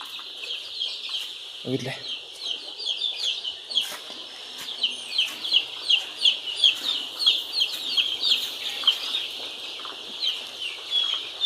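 A flock of about 5,000 Sonali chickens on a poultry farm clucks continuously, with many overlapping clucks and chirps forming a steady, close chatter, and a brief voice breaks in near the start.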